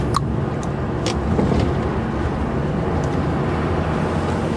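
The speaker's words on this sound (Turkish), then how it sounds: "Motor sesine hastayım ben bu arabanın." A truck engine runs steadily in city traffic near Pendik port, a loud continuous low rumble inside the cab with a few faint clicks and no one speaking.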